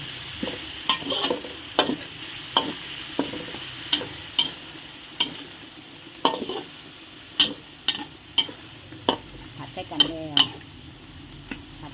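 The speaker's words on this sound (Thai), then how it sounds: "เราจะค้นใส่กันนะจ้าผัดใส่กันเลย ผัดใส่กันเลย" Chicken curry with pickled bamboo shoots being stir-fried in a pan: repeated sharp scraping strokes of the spatula every second or so over a steady low sizzle, close and fairly loud, with no talking.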